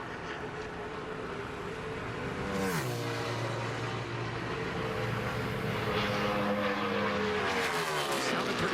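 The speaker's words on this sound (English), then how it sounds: "that car just doesn't sound like it's running clean" A NASCAR stock car engine during qualifying at the Firekeepers Casino 400 roars past, sounding slightly rough as if a cylinder is misfiring. The pitch drops sharply as it passes, then holds a steady drone before rising again toward the end.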